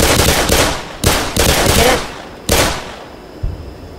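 Pistol gunfire in the first-person shooter Black Mesa, several loud, close shots in quick succession, each with a sharp crack and echoing decay, then a fainter pop near the end.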